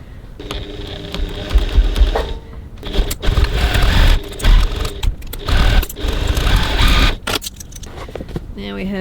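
A sewing machine stitches the bottom seam of a handbag in several close bursts of fast whirring, stopping and starting between runs, with brief clicks and handling sounds in the gaps.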